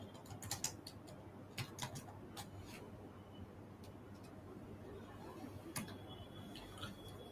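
Quiet, irregular clicks of keys on a computer keyboard as code is typed, a few short bursts with pauses, over a low steady room hum.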